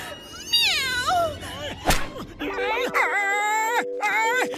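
A cat meows several times, drawn-out and wavering, close and loud, with a sharp click midway and some voiced sounds mixed in.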